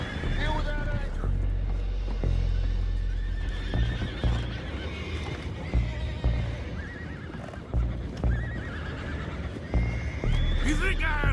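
Horses whinny and neigh repeatedly in Red Dead Redemption 2, with clip-clop hooves, over a dense game soundscape with music and voices talking.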